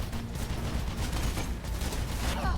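Rapid bursts of automatic gunfire in the video game Mirror's Edge, a dense, loud rattle of shots that runs almost nonstop across a few seconds, close and without any voice over it.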